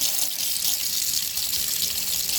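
Cold water streams from a faucet as makeup brushes are rinsed, a constant bright rush of running water with no voices.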